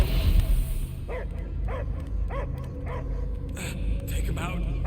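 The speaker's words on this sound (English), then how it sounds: "I hear only barking." A dog in the video game Marvel's Guardians of the Galaxy barks six or seven times in a steady rhythm over a low game soundtrack, with a voice speaking in the background.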